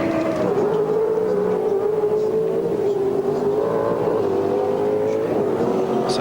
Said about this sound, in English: get that car out there in a hurry, and Seaton has come out behind the 17 car